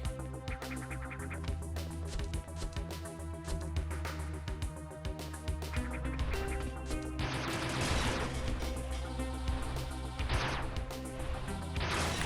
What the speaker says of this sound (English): there's another block that I need the power bomb to break